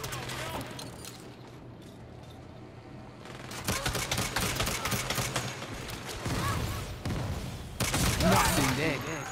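Sharp gunshots from Saints Row crack out in repeated bursts, louder in the latter half, with someone talking intermittently between and over the shots.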